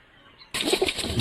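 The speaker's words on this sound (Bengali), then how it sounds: "দেখো সব কবুতরগুলো খাওয়ার জন্য বাইরে বের হয়ে গেছে" Pigeons at a backyard coop take off to feed. After a brief quiet moment a sudden close burst of wing flapping rushes in and keeps fluttering to the end.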